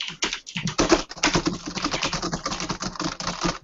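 Rapid, continuous typing on a new computer keyboard, loud and close, with keystrokes clattering in a busy, uneven rhythm and no voices over it.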